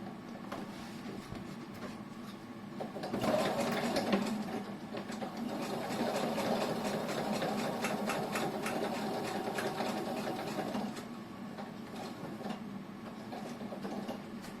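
Sewing machine stitching fabric for a shoulder bag, a quiet rapid mechanical whir that runs steadily for several seconds, stops briefly near the end, then resumes, with no voices.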